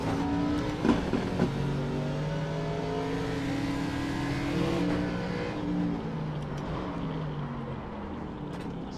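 A 900-horsepower NASCAR race car engine on the Daytona road course hums and climbs through gears with rising and falling pitch, a steady, close mechanical drone with brief sharper bursts and no talking.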